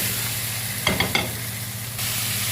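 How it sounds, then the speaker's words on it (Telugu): Chicken pieces fry in hot oil with ginger garlic paste in a steady, close sizzle. A few quick scraping stirs of a spoon break through the middle, and no one speaks. "ఇలా 1 నిమిషం వేగిన తర్వాత మనం ఇందులోనే చికెన్ వేసుకున్నామండి."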